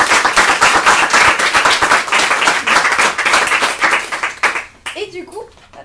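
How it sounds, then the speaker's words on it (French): An audience at a startup pitch event breaks into steady, dense clapping that fills most of the moment, then thins and fades out near the end, leaving a brief voice. "On peut applaudir."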